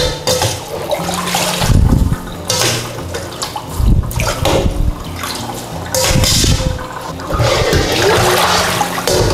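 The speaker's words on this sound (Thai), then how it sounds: "ให้เราค่ะล้างในน้ำเย็นค่ะล้างจนหมดแป้งค่ะ" Cooked rice noodles being rinsed in cold water, close and loud sloshing and splashing in bursts, with running water and stirring surges across the whole stretch.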